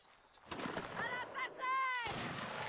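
Musket volley in a line-infantry video game battle, a ragged burst of distant gunshots crackling over background din, with whistling tones and a final sharp report.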